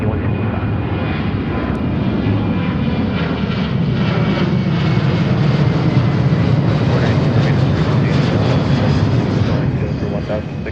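Jet airliner taking off at Seattle airport, a steady loud roar of engines building slightly and holding throughout, with faint radio-style talk beneath.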